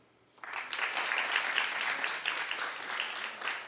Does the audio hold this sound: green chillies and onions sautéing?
no